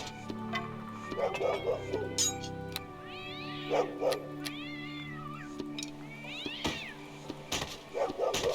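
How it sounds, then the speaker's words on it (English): Cats wail and meow repeatedly in the town of Port Llast in the video game Neverwinter Nights, rising yowls recurring over a steady ambient game background with occasional louder cries. "People are really messing with cats in this town. Everywhere you go, you can hear a bunch of them wailing."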